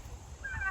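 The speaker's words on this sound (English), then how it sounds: "We've got some little baby turkeys running around and some not so little baby turkeys running around" Young turkeys on a homestead give a brief, close call that rises at the end, short and fairly quiet with no talking.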